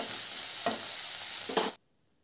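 Tomatoes sautéing with salt in a pan for a lunchbox rice dish give a steady loud sizzle with two stirring scrapes, cutting off abruptly to near silence.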